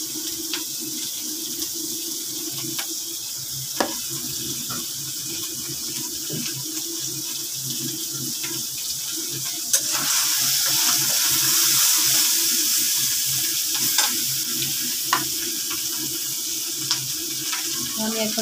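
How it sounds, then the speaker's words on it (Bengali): Oil heating in a wok on the stove, a steady hiss that swells a little partway through, with a few faint clicks and knocks from the pan. "তো আমি তেল দিয়ে দিচ্ছি, পরিমাণ মতো তেলটা দিয়ে দিচ্ছি।"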